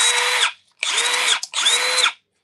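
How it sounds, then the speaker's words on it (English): A Milwaukee M12 cordless drill is triggered three times in a row, each loud, close whir lasting about half a second, with brief silent gaps between and no one speaking. "All right, so here's the M12 drill."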